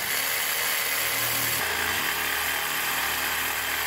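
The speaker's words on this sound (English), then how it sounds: "Next, I have a jigsaw. This is gonna cut our wood." A jigsaw cutting wood in a production lab, a dense, loud, continuous buzzing whine that holds steady and shifts slightly in pitch partway through, close and with no voices.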